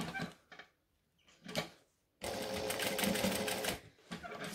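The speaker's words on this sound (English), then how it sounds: "So I'm going to stitch down or across the top." A sewing machine stitches across the top of a quilt binding in short close bursts, then a longer steady run of rapid mechanical clatter, with brief pauses between.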